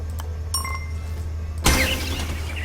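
Short chiming advancement jingle from the video game Concrete Jungle, a few bright tones followed by a louder shimmering burst over a low background hum.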